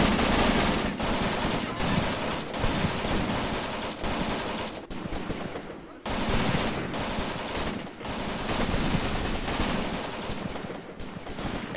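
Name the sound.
Soviet machine gun firing in Graviteam Tactics video game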